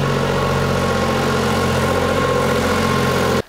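A tractor engine drones close by at a steady, loud pitch for a few seconds and then cuts off abruptly, with no voices.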